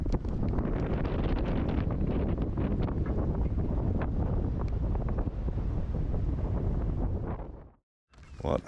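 Strong wind buffets a sailboat riding at anchor off an island near Faro, Portugal, a loud, steady roar with gusty surges that runs unbroken for about seven seconds, then briefly drops away before picking up again.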